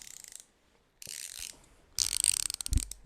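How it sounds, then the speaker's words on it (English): A ratcheting screwdriver with coarse teeth clicks in three short bursts close by, with quick rapid ratchet ticks and a soft knock near the end, and no talking. "you got the best ratcheting screwdriver in the business"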